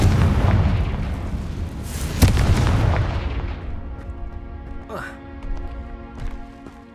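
A Confringo spell goes off in Hogwarts Legacy as a booming fiery blast with a sharp crack and a long crumbling decay, followed by smaller pops, with a voice over the top.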